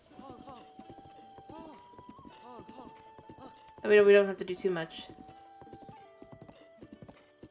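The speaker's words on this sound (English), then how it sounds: "As the horse starts getting rowdy, we start loving on the horse." A horse's hooves clip-clop in steady rhythm in Zelda: Breath of the Wild, with a loud whinny partway through, under someone talking and game music.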